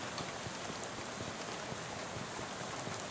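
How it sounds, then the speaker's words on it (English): Steady rain in the Western video game West of Loathing, a dense, even hiss of falling drops that runs unbroken and fairly soft throughout. "You would make a dog walk six miles in this rain no matter how bad it wanted to."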